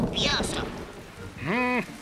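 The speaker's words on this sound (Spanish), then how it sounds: "Otro día lluvioso." Cartoon rain and thunder from a Woody Woodpecker episode pour steadily with a rumbling storm, while a high voice sounds over the downpour.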